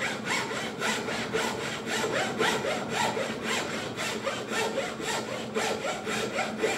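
A hand frame saw cuts through 1½ inch construction lumber in steady back-and-forth strokes, about three per second, giving a rhythmic, close, rasping sound without any speech.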